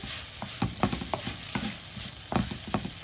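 Salmon and vegetable noodle stir fry sizzling in a pan, a soft continuous hiss broken by irregular clicks and knocks of a utensil tossing the food, close but fairly quiet.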